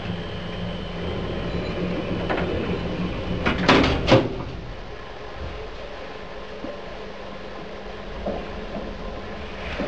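Lift doors in a modernised building lift slide shut, a short cluster of clunks and rattles amid steady mechanical hum, fairly close with no talking.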